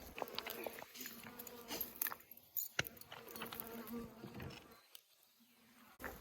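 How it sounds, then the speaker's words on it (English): Honey bees buzz in a close, droning hum that swells and fades, with some light clicks and handling noises mixed in. "now we've got our bees in here"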